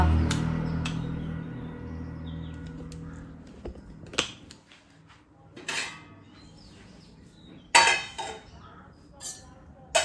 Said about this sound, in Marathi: आता ह्याला आपण झाकून ठेवूया